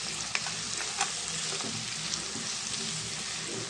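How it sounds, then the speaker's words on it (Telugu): Chopped onions and ginger garlic paste frying in a pan, a steady dense sizzle with a few light clinks of stirring, close and loud, no voices. "దీంట్లో 1 స్పూను అల్లం వెల్లుల్లి పేస్ట్ వేద్దామండి. దీన్ని కూడా పచ్చివాసన పోయేదాకా మనం ఫ్రై చేసుకుందాం"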